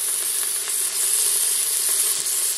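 Olive oil and bacon lardons sizzle steadily in a pan, a dense, continuous hiss with faint crackles and a few light pops throughout, close and fairly loud with no talking.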